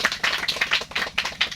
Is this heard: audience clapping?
yes